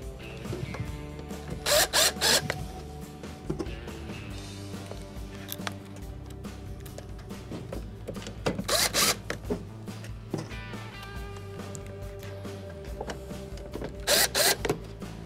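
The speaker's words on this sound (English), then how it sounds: "Now, once all the screws are in, or most of them are in, I'll go around and secure all the screws." A power driver runs screws into the door of a Maytag dryer under repair, giving several short, loud bursts of whirring spaced through the clip among softer clicks and handling noises.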